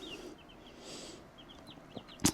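Soft, scattered chirps and clucks from 19 small chickens at a low level, with a brief louder peep near the end.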